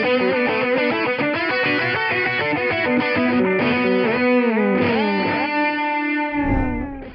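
Distorted electric guitar with a mono delay feeding two cabinets through a Two Notes Reload 2 plays a dense lead line with repeating echoes. It finishes with bent, wavering notes and a low thump before fading out.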